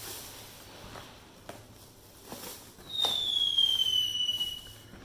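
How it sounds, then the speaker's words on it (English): Fireworks outside near a store's dumpster, a few distant pops and cracks, then a rising whistling streak with crackle, moderately loud and heard without talk. "I might have to turn around and watch the fireworks"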